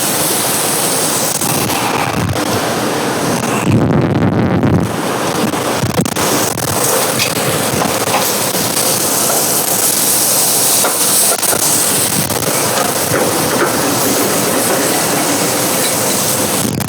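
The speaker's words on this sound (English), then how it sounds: "I'm going to wash my hands real quick." Running water gushes steadily from a tap as a chef washes hands in a kitchen, a loud, continuous broadband hiss with small clatters and shifts, no talking.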